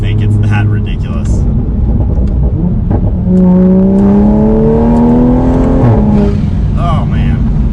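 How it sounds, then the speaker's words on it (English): A tuned Toyota Supra A90 making about 450 wheel horsepower pulls hard at full throttle, its engine note climbing steadily through the revs before a brief shift, loud and close from inside the cabin, with people talking over it at times. "clearly when you floor it in this car"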